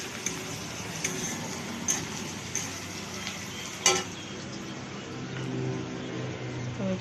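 Onion frying in a pan for pasta gives a steady, low sizzle throughout, broken by a few sharp clicks and scrapes of a utensil against the pan.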